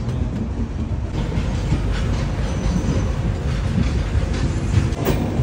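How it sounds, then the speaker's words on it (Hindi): Dibrugarh Rajdhani Express in motion, heard from inside a 2nd AC coach as a loud continuous rumble with rhythmic wheel clatter and faint squeal, no voices. "बाकी जो हमारी ट्रेन अब यहाँ से खुलेगी कि 1:40 पे यहाँ पे खुलेगी"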